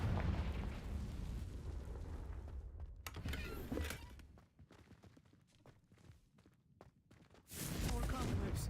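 In Hogwarts Legacy on Nintendo Switch, a Confringo blasting spell goes off with a loud rumbling blast, dies down into quieter crackles and a few footsteps, then a second blast erupts near the end.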